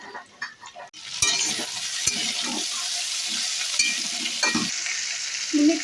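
Chopped tomato drops into a wok of frying drumstick pieces and potatoes; after a few quiet clicks a loud, steady sizzle takes over, broken by occasional scrapes of stirring.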